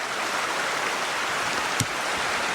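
A forest creek flows in a steady, broad rushing wash of water, constant and fairly close, with a single small knock partway through and no voices.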